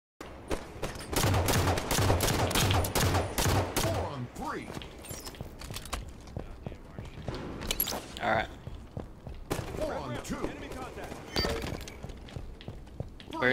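Rapid bursts of gunfire from a Halo 5 multiplayer match, dense and loud in the first few seconds, then scattered shots and footsteps, with a player talking over the game audio.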